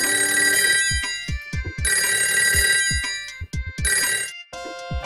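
A telephone rings in loud repeated bursts with short gaps while a call is placed to the Kathmandu Metropolitan City office in a comedy sketch; there is no talking over the ringing.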